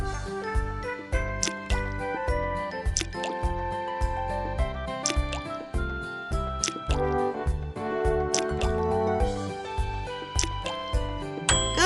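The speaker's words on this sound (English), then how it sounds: "Please add 12 ice cubes." Ice cubes plopping one after another into water in an ABC Mouse learning game, a quick rhythmic run of bright plinks and drips over a tinkling musical backing, with no talking.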